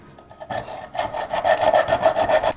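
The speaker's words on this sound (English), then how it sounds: "let's use a hand file here" Hand file rasping a metal magazine catch on an SAS-12 shotgun, a run of quick, even strokes that starts after a short pause and repeats steadily at close range with no talking.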